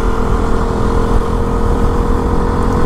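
A fully modified KTM RC 200 motorcycle engine runs loud and close, a steady, dense rumbling roar that holds level throughout without clear rises.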